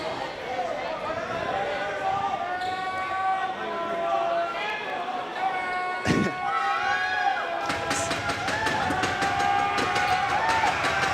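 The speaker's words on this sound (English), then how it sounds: "Milford crowd getting loud" Home crowd at a Milford Scarlet Hawks high school basketball game against Dedham, a loud continuous roar with cheering and a sharp thud midway, under a commentator's voice.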